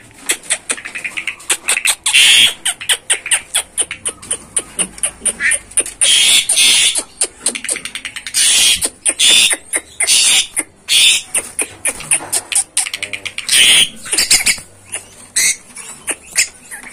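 Garden starlings (jalak kebun) give a busy run of sharp chirps, squeaks and whistles after being let loose, with fluttering wings in between, the calls coming close and fairly loud in quick, uneven bursts.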